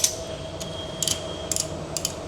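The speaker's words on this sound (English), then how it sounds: "we're just ratcheting that down" A ratchet is cranked down on steel plating while a 630A three-phase supply is glanded, giving quiet clusters of sharp metallic clicks in short bursts over a steady background hum.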